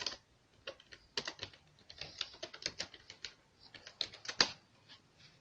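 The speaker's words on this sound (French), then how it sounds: "Et donc on tape la commande Django." A computer keyboard tapped in uneven bursts of quick, crisp clicks while a Django startproject command is entered, close and fairly quiet, with brief pauses and one sharper keystroke near the end.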